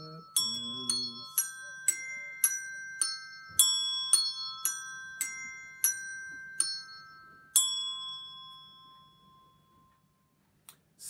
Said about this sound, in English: Listening to the bells.